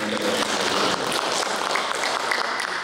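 Audience applause at an official gathering in Manokwari, West Papua: a dense, continuous wash of clapping hands at steady loudness for a few seconds.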